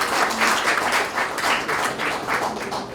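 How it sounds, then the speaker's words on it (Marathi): Audience at a Pune Rotary Club award ceremony clapping together, a dense, loud, continuous burst of applause with no talk. "ह्याच्यासाठी जोरात टाळ्या होऊ दे."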